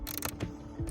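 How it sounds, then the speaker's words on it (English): Small Husky ratchet being turned during an oil change on a car, giving a few quick, close mechanical clicks and ratcheting bursts in rapid succession. "Got that small Husky ratchet."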